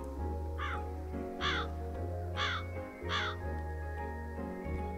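An enlarged bird in the video game Calico gives four repeated cawing calls, evenly spaced about a second apart, over a steady humming game music bed.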